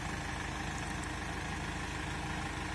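The engine of a Nissan NV400 van with a single-turbo 96 kW motor idles continuously with a constant low rumble and no change in pitch, close by and fairly loud, with no voices.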